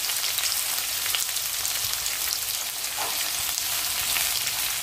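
Chili tipped into onions already frying in a hot pan sets off a loud, steady sizzle and crackle that runs unbroken throughout, close up and alone.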